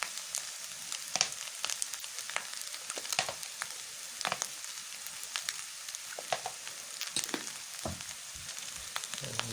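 Egg fried rice with soy sauce and chili sauce sizzles steadily in a hot pan, a dense continuous crackle broken by sharper scrapes and clicks as it is stirred, close and fairly loud with no talk.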